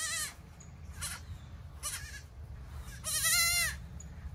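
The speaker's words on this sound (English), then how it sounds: "We just added these 2 little baby goats to our farm." Two little baby goats on a farm bleating in short, wavering cries, several separate calls spaced out, with a longer, louder quavering bleat near the end, close to the listener with a low background rumble.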